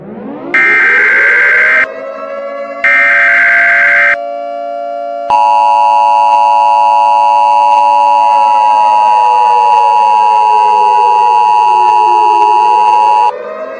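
Loud, steady Emergency Alert System attention tone: two short bursts of a harsh electronic squawk, then a long sustained dual-pitch tone with a slightly wavering, siren-like sweep underneath. No one speaks.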